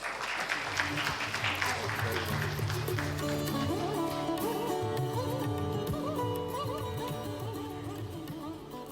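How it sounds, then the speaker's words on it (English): Audience applause at an evening stage event, greeting a company founder as he walks on, a steady continuous wash of clapping that holds loud throughout with music playing underneath. "could we have a huge round of applause"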